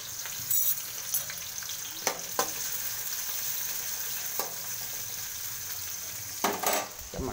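Onion and green chillies fry with mustard seeds for rava upma, a steady soft sizzle broken by several sharp scrapes and clinks of a spatula against the pan.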